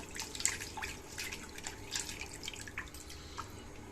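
Freshly halved green jackfruit rinsed in water to clear its sticky sap, with faint splashing and dripping close by in a quiet kitchen and no talking.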